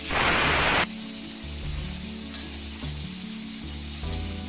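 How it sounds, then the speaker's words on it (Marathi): Battis, round dough balls, deep-frying in hot oil with a loud, dense hiss that bursts at the start, then settles into a steady bubbling sizzle under background music. "या आपण शिजून घेतल्या आहे त्याच्यामुळे या तळल्यानंतर कच्च्या राहतच नाही या गुलाबी झाल्या वरती काढून घ्यायचे"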